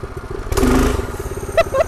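A Predator 212cc small engine on a minibike runs at part throttle, a close, loud, rough putter that swells into a brief rev burst, with a few higher clattery blips near the end.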